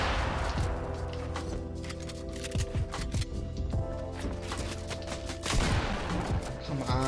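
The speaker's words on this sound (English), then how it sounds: "I got sniped at, so I gotta get out of here." Sniper shots and other gunfire in the Fortnite video game, with repeated sharp cracks and bursts of varying loudness over a busy bed of game sound.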